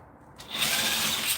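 A socket wrench removes lug nuts from car rims on a 1984 Buick Regal, giving a short, close, bright ratcheting burst that starts abruptly after a brief quiet moment.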